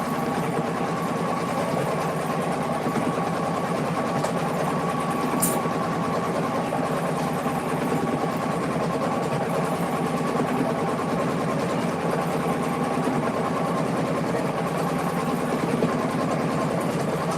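An embroidery machine with a magnetic hoop stitches a Halloween witch design, giving a steady, close, mechanical hum and rapid rhythmic chatter that runs on unchanged, with no talk.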